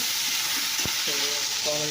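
Bitter gourd slices fry in a pan with a steady, loud crackling sizzle, broken by the clink and scrape of stirring partway through.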